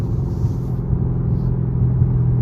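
A car engine rumbles loudly and steadily at close range with a deep, droning low tone as the throttle is held open. The car is running Hoosier tires.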